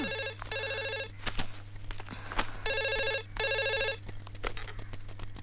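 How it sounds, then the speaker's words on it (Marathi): A telephone rings indoors in a home, with several loud repeated electronic ring bursts separated by brief pauses. "प्रीतम. हा, फोन घे ना."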